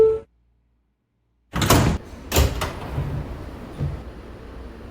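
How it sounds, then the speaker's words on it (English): R160B subway car doors sliding shut after a brief chime and a pause of silence, with a loud thud of closing panels followed by a second bump and train rumble, no talking. "Stand clear of the closing doors, please."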